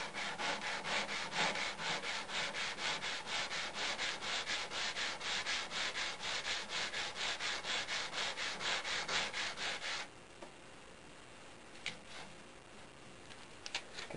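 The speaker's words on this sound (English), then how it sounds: "We want to erase the filing marks from the previous filing or sanding." A metal workpiece is filed and sanded smooth before browning, with steady rhythmic back-and-forth strokes, close and loud, about twenty passes that stop abruptly, followed by quiet handling noises.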